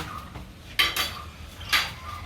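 A pot lid clinks down onto a pot of pork sinigang simmering on the stove, two short metallic clatters close by, with faint kitchen room tone between them.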